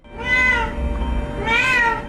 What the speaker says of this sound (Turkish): Rusya'da bir mahallenin sevimli kedisi.